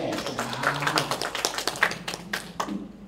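Audience applause for LKIS during the rector's address at a UIN Sunan Kalijaga graduation ceremony: a lively burst of many hands clapping in a hall, dense and irregular, fading slightly at the end.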